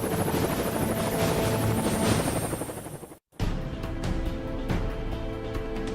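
Green and white Marine helicopters fly close by with a loud, steady rotor roar and dense chopping throb that cuts out briefly, then resumes at full strength.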